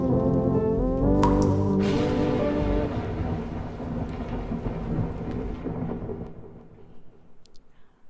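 Thunder rumbles loudly and rolls on, with a sharp crack early on and rain beginning to fall beneath it as the rumbling slowly fades.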